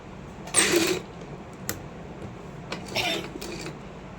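A sewing machine stitches together the panels of a four-panel salwar in short bursts, a soft whirring run near the start followed by quieter clicks and a second burst, heard close and alone.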